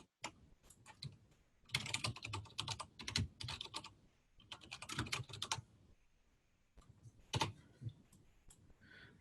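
Rapid bursts of typing on a computer keyboard, with clustered key clicks in several runs separated by short pauses, close and fairly loud.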